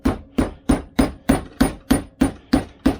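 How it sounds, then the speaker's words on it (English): A rubber mallet taps an aluminum adapter held in a vise, giving nine evenly spaced, firm thuds at a steady rhythm. Each blow is close and dull, with a short ringing tail. "So I just use a rubber mallet."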